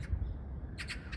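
Birds call from a roof at Kukkiwon park, with a few short, harsh squawks bunched near the end over a low outdoor rumble, with no voices.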